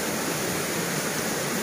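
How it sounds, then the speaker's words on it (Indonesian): A waterfall along a jungle trail roars as a loud, steady, broadband rush of water with no gaps, close and continuous for the whole stretch. "banyak air terjun yang kita lewati"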